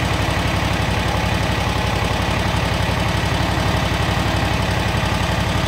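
A Kubota lawn mower engine runs loud and steady close by, its hydrostatic drive moving the machine slowly forward, a constant low throbbing drone with a fast regular pulse.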